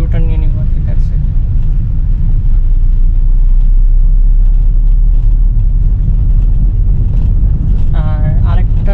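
A Toyota Sprinter AE 110 car drives onto the Matuail highway, its steady loud engine rumble and road noise running throughout, with a voice speaking over it near the start and end.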